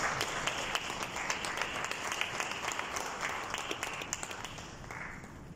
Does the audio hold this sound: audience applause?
yes